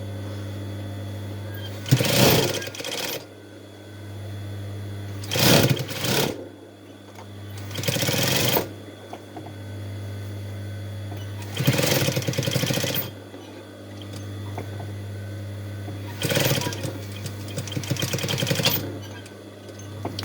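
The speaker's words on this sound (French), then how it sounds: "j'ai surpiqué tout le tour" A sewing machine topstitching around the edge of a fabric face mask, several separate bursts of fast steady needle whirring close by, with a low electrical hum running beneath and pauses between runs.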